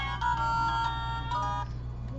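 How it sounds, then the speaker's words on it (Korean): A mobile phone rings with an incoming call inside a phone repair shop. The melodic ringtone loops steadily and clearly over a low electrical hum, and no one speaks. "잠시 전화 좀 받고 들어가겠습니다."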